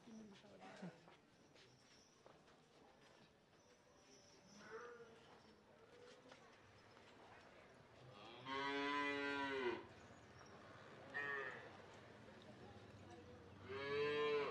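A Murrah buffalo at a livestock sale gives two long, loud, deep moos and the start of a third, with quieter talking and faint bird calls in between.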